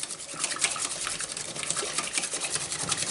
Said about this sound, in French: Là, on remue. N'hésite pas, on fouette.